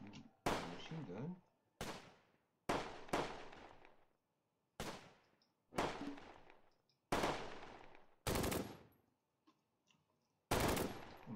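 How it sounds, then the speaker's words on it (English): Machine gun fire in a strategy war game, heard as a series of loud, sharp bursts and single booms spaced about a second apart, each trailing off with a short echo. "But what I can do is use my machine gun."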